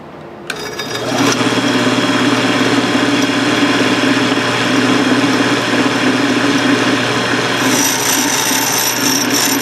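A toolpost grinder dresses its grinding wheel on a South Bend lathe set in back gear, starting with a click and spinning up into a loud, steady whine with abrasive hiss, close and alone.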